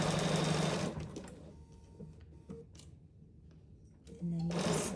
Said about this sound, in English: I'm just going to continue sewing until I get to my other corner